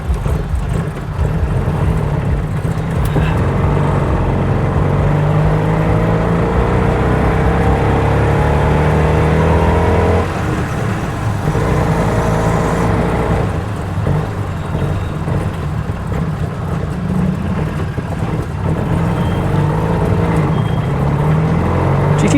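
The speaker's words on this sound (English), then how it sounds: "Like getting my first tuk tuk in Thailand, back to the hotel." Tuk tuk engine buzzing through Chiang Mai traffic during a ride, a loud close drone that rises and falls with acceleration amid surrounding road noise.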